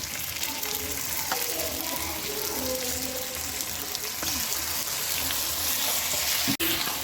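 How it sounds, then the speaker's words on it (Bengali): Mutton coated in spices with chui jhal, tossed into a hot kadai for biryani, gives a steady, dense sizzle with a few soft scrapes and one sharp knock near the end. "মাংসটাকে আমি এখন কড়াইয়ের মধ্যে দিয়ে দিচ্ছি চুই ঝালও দিয়ে দিচ্ছি"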